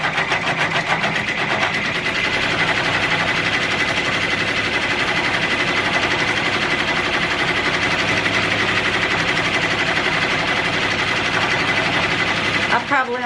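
An embroidery machine stitches out the red section of a design for a potholder or towel, giving a steady, loud, rapid mechanical whir and needle chatter that runs continuously throughout at close range.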